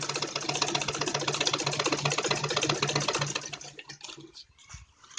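A sewing machine runs steadily, stitching around a blouse neckline, with a fast even rattle for several seconds before it slows and stops near the end; no talking.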